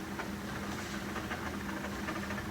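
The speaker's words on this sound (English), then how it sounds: "You probably hear a tractor going by" A tractor passes in a field next to an outdoor spot, a steady low engine drone with hiss running throughout at a moderate, even level, with no pauses or talk.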